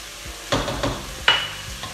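Tomato paste going into sizzling beef ragu in a home kitchen pan, heard as three or four distinct close scraping stirs and spoon knocks over a low, continuous sizzle.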